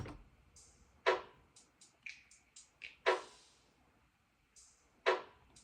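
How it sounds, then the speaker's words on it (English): A sparse drum loop from a beat built from a handful of samples, with crisp snappy hits and short clicky percussion ticks spaced in a loose, steady rhythm, fairly quiet and unaccompanied. "The drums sound like this now."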